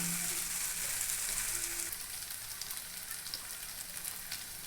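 Tender green jackfruit, cooked village style, fries in a pan with a loud, steady hissing sizzle that eases slightly partway through and carries on without talk.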